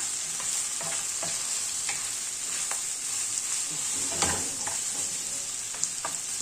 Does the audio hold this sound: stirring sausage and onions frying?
yes